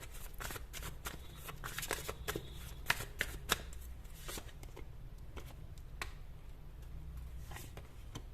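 Tarot cards are shuffled and drawn close by, with a run of crisp riffling flicks and sharp card snaps in an uneven rhythm.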